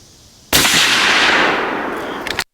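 A single sharp, loud gunshot from a Bergara B-14 HMR .308 rifle fired on a range, cracking abruptly and trailing off in a long decaying echo over about two seconds.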